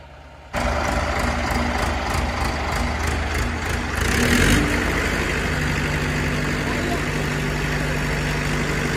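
A tractor engine idling nearby, starting abruptly and then running as a steady loud rumble with a brief louder surge midway, while people talk over it.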